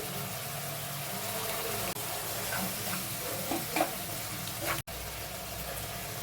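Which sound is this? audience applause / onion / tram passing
onion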